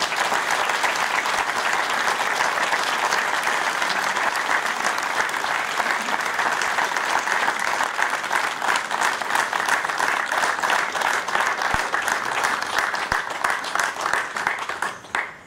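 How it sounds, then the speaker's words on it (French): A crowd at a 70th-anniversary ceremony for a French Resistance maquis applauds the resistance veterans in long, sustained, even clapping that stays loud for about fifteen seconds before cutting off at the end. "Je vais vous demander d'applaudir ces personnes"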